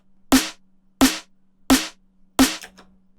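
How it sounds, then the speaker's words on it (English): Layered snare drum samples stacked together in Reason for a drum and bass track, four identical crisp snare hits evenly spaced about 0.7 seconds apart, loud and dry with short bright tails over a faint low hum. "So this is what the drum sounds like with both these layers played together."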